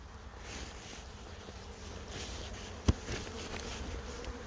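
A dense, steady buzz of many honeybees from hive colonies hums throughout, with a soft outdoor background and one sharp click partway through.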